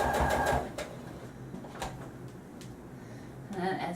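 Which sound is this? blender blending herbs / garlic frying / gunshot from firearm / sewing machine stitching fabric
sewing machine stitching fabric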